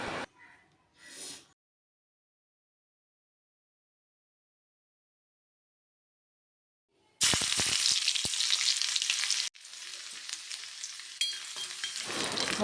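Chopped ginger and garlic hit hot oil with a loud burst of frying that crackles steadily, briefly dips, then resumes, following a short stretch of near silence; no one speaks.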